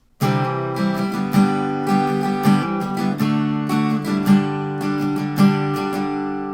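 Steady acoustic guitar strumming with ringing chords and picked accents, close and clear, played alone without any voices: the interlude between the first chorus and second verse of a song.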